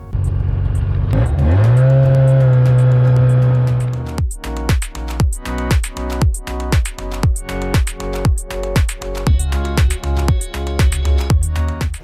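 A snowmobile engine runs near at hand, first holding a steady droning note for several seconds, then shifting into a rapid, regular pulsing as it heads out onto a lake.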